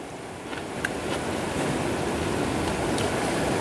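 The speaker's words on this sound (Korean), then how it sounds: "지금 바깥에 파도가" Sea waves breaking on the beach at Jangho on Korea's east coast, heard from beside a tent at night: a steady, loud, continuous wash of surf with no distinct pauses.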